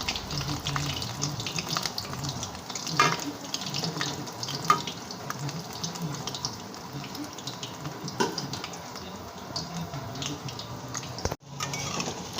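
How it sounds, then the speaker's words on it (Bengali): Potato fritters fry in hot oil, giving a steady, bubbling hiss across the whole stretch with a few brief clatters over it and no talking. "লাল লাল করে ভেজে নিতে হবে"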